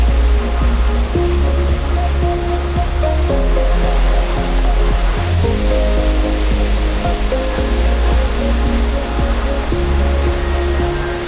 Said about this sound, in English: There's so many little waterfalls coming down the creek.